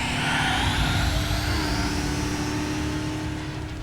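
A turbocharged car in the Trails through Daybreak video game accelerates hard, its loud, steady engine roar rising in pitch and then easing slightly toward the end, close and with no other sounds.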